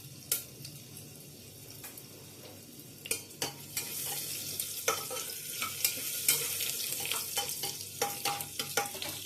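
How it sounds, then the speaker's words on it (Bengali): Ginger and spices fry in a pan for a pulao while a spoon stirs them, giving a steady sizzle broken by repeated sharp scraping clicks at close range, with no talking. "এগুলো একটু নাড়াচাড়া করবো।"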